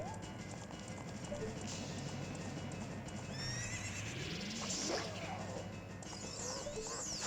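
A horse in the video game Ocarina of Time 3D whinnies with a rising and falling neigh over clip-clopping hooves and a steady game background.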